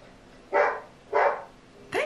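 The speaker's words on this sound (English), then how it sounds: "Look at the dog." In a scene from the horror film Paranormal Activity 2, a dog gives two evenly spaced, moderately loud barks, followed by the start of a third, against a quiet background.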